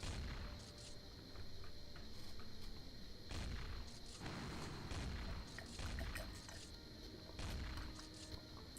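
Sustained gunfire aimed at the Harrier creature in the video game D.I.R.T.: Origin of the Species, dense repeated bursts with heavy booms that keep going without a break.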